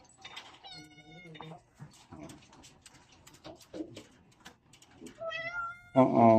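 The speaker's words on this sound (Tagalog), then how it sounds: "Pakain muna tayo ng ating pusa. Nag-ingaw-ingaw na." A hungry pet cat meows repeatedly before its breakfast, with drawn-out close meows at the start and again near the end, separated by quieter rustling and small sounds.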